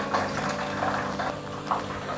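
Chicken frying in a pan, a steady bubbling sizzle with soft pops throughout, close and continuous, no talking.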